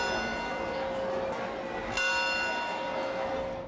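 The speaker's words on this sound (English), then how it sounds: "one bell meant the start of the workday. A different sound meant that it was noon, time for lunch" Bell ringing at Plymouth Plantation to mark a change in the workday, a steady sustained ringing tone with a brighter fresh strike about halfway through, fairly distant and continuous throughout.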